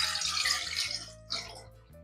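A cup of water is poured into a cooking pan, a short splashing pour that briefly pauses and resumes, heard close over a soft musical background.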